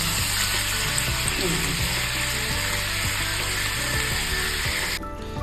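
Chicken fries in a pan with spice paste, giving a steady, loud sizzle with occasional stirring clatter. The sizzle cuts off abruptly near the end.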